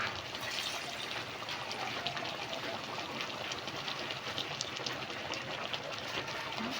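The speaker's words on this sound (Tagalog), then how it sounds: "So ayun mga kalamon, dagdagan natin ng tubig." Water streams steadily into a pot of mung bean stew during cooking, a continuous, fairly loud rushing and trickling with no pauses.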